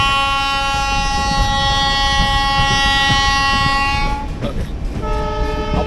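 Saraighat Express passenger train running after leaving Kamakhya Junction, a loud steady rumble with strong sustained horn-like tones throughout that shift and drop away near the end, no talk.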